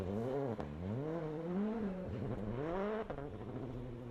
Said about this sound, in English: Chris Prinson getting to grips with his new Citroën as well. Slowly increasing the speed.